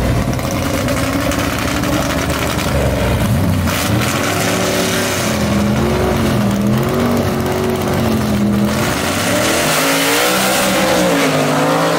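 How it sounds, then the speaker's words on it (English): Methanol-burning, mechanically fuel-injected gasser drag cars, including a big Plymouth, race at Gulfport Dragway with a loud, continuous engine roar that rises and falls as they shift, close and filling the whole stretch. "Both of these cars mechanically fuel injected,"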